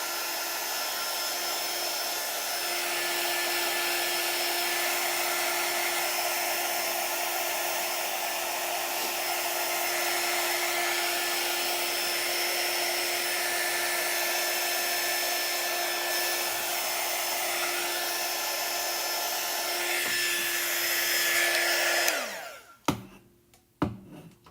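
A hair dryer blows steadily and loudly for over twenty seconds, drying chalk paste on an 18-inch box frame, then cuts off abruptly, leaving a few brief knocks and handling clicks.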